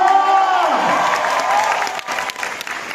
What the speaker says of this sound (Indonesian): Sekali lagi pada tepuk tangan yang paling gede buat Kim Ji-won